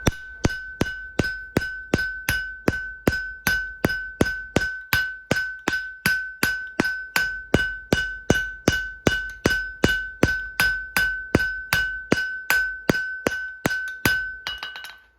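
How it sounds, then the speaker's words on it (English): An off-grid blacksmith hammers thin steel on either side of center while forging a timber slick, a long steady run of sharp ringing metallic strikes at an even quick rhythm, close and loud with no talk. "I'm hammering on either side of center, and I'm leaving a thick portion down the middle if I can."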